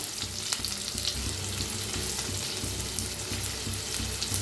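Curry leaves and crushed garlic frying in hot oil for misal, a loud, steady, close sizzle and crackle that runs without a break.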